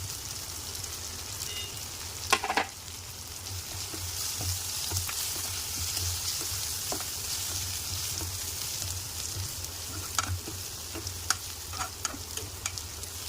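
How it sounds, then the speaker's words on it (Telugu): Ginger and turmeric frying in a pan give a soft continuous sizzle, broken by scraping stirs from a spoon and a few sharp clinks against the metal, with no voices. "అల్లం పచ్చివాసన వేరే వరకు ఫ్రై చేసుకోవాలి. ఆ తర్వాత దీంట్లో పసుపు వేసుకుందాం."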